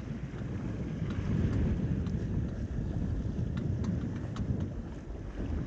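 Sailboat under way in the wind near Bahia Honda Key in the Florida Keys, steady rushing wind buffeting the microphone with water wash and faint creaks, moderately quiet and continuous.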